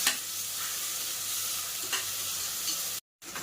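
Onion and tomato sauté in a pan for dal khichdi with a steady, close frying hiss and a couple of faint stirring scrapes. The sound cuts out briefly near the end, then returns.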